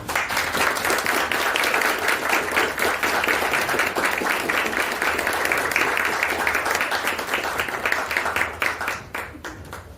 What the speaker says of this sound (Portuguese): Vamos receber a Beatriz com uma salva de palmas